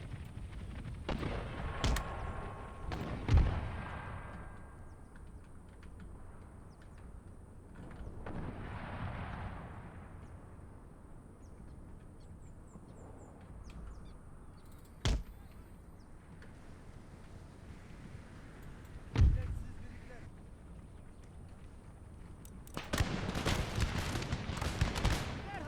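Mortar and artillery fire on a battlefield in Empire: Total War, with scattered booming blasts and rumbling distant volleys spread across the scene and no voices.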